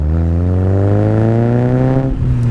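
An RX-5 140 car being driven emits a loud, steady engine and exhaust drone with wind noise from the cabin, holding one even pitch with no talking.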